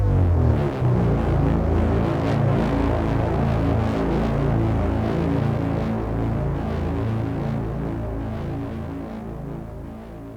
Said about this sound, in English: you could make this sound pretty much using a sine wave and obliterate it to make it sound like this